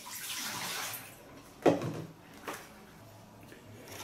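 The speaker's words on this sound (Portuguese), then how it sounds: "Jogar essa água fora." About 600 ml of water wrung from laundry by a Suggar Giromax 15kg spin dryer is poured out of a jug, a soft rushing splash followed by a louder slosh and a fainter second pour, fairly close.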